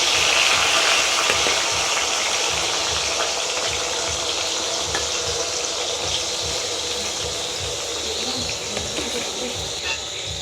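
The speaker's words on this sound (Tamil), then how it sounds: "உப்பு பீரட்டி வச்சுருக்கிற உருளைக்கிழங்கு நாங்கள் பொரிய விடுவோம்" Continuous hissing and crackling sizzle of salted potatoes frying in hot oil, steady and fairly loud throughout.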